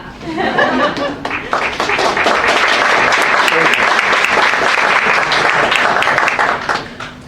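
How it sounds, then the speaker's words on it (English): An audience at a launch event breaks into a burst of clapping and applause, mixed with a little laughter, building quickly and holding steady for several seconds before fading out. "Oh, you can clap."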